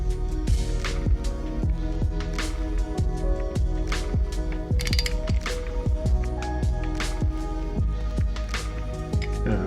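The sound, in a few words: ratchet tightening cam sprocket bolt on GSXR1000 engine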